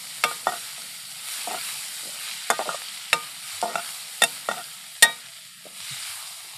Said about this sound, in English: Now stir this and cook this for a while.